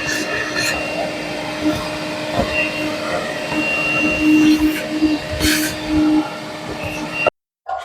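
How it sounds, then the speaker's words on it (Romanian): Dirt being vacuumed out of the air filter box of a BMW X1 F48, a steady whooshing drone with brief bursts as the nozzle moves, close and continuous, stopping abruptly near the end. "O să o aspirăm."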